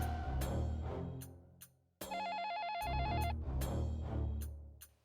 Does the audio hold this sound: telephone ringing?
yes